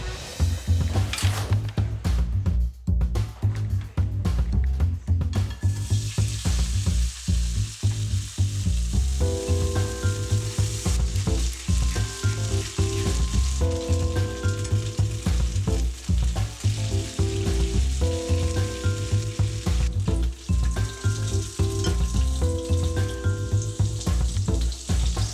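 Food fries in a pan with a dense, continuous sizzle and crackle, occasionally stirred, while soft background music plays throughout.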